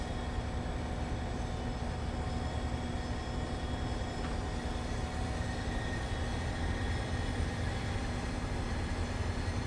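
A diesel train hauling half a dozen passenger cars through an underground station on the Boston line in Train Sim World 3 gives a steady, loud, continuous engine rumble and drone with no break and no talking.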